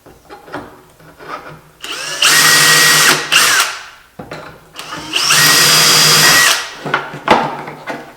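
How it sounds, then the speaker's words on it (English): A power drill whirs loudly in two long bursts, drilling pilot holes into a wooden drawer side using a jig, each a few seconds of steady high-pitched spinning, with brief quieter handling noises between them. "it is important to use a jig to drill pilot holes for the screws"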